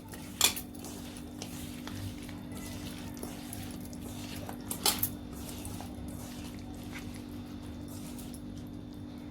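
Prawns mixed with lemon juice and salt in a bowl, with soft clinks of a spoon against the dish and faint wet stirring over a steady background hum, a few sharper taps standing out.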